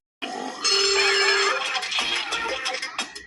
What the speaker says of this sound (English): Number 3, ringing like a bell.